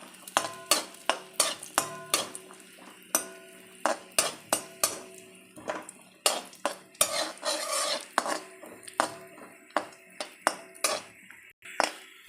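A spoon scraping and clinking against a pan in repeated sharp strokes as cashews and raisins fry in ghee, with a soft sizzle between the stirs.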